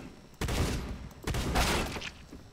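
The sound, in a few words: sniper rifle shot in the video game CS:GO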